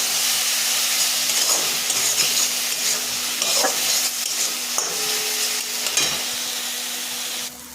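Fried potatoes stirred with spices in a pan while cooking a rui fish curry, a close, loud, continuous sizzle with repeated scraping and clattering of a spatula against the pan, no voices.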